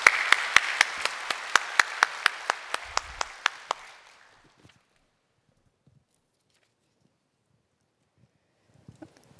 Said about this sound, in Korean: 나오실 때 우리 박수로 격려해 주시기 바랍니다